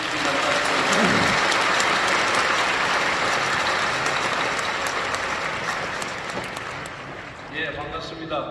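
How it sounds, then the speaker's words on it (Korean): Sustained, vigorous applause from a congregation at a Korean church Easter joint worship prayer meeting as the People Power Party floor leader comes forward to speak; dense clapping fills the whole stretch and eases off toward the end. "나오실 때에 힘차게 박수로 환영해 주시기 바랍니다."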